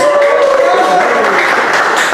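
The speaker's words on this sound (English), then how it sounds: "Round of applause, please." A tech-meetup audience applauds, a short burst of loud, dense clapping with a hint of a voice or whistle early on.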